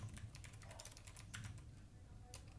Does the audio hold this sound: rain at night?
no